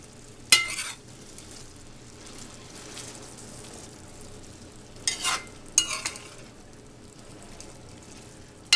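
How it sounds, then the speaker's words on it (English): Cantonese food being stirred in a frying pan, with a low, steady sizzle throughout and a few sharp scraping strokes of the utensil against the pan. "I'll mix it up real nice."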